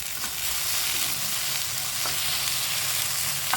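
Steady, loud sizzling of okra frying in a pan alongside potatoes, a continuous crackling hiss with occasional small pops, no voices.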